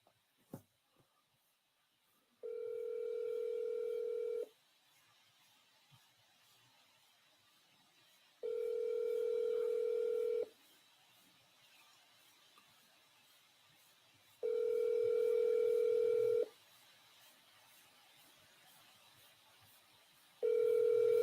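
An outgoing phone call rings unanswered: four evenly spaced two-second ringback tones with quiet gaps between them, clear and alone on the line.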